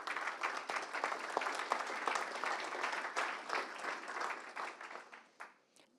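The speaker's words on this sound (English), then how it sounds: "So a big clap at this point, please, for the countries." Conference attendees at a coffee sustainability gathering clap for country representatives; the applause is moderately distant, steady and dense, then thins out and fades over the last second.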